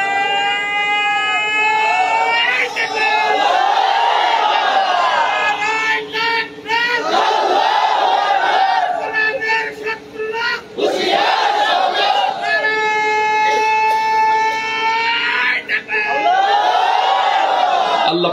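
Crowd at a religious gathering shouting slogans in unison, loud rhythmic chanted bursts repeating several times, with pauses between calls.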